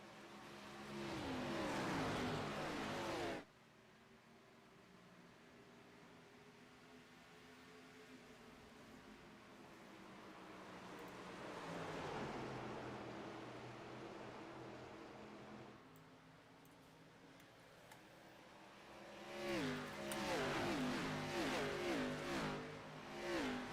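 Stock cars racing at Darlington in a sim racing video game, a Grand National Series event: steady engine roar that drops to a quieter drone, swells again, then surges loud near the end with pack noise and revving.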